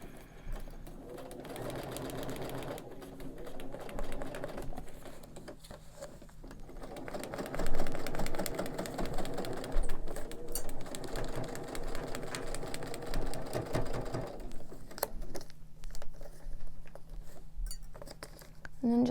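A sewing machine stitches a quilt block, the presser foot feeding extra bulk, its steady mechanical whir running beneath continuous talk.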